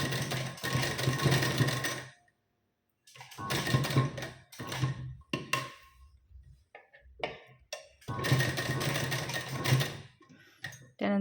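Domestic sewing machine stitching a blouse, loud rattling runs of stitching that stop and start in short bursts, with pauses and small clicks between them.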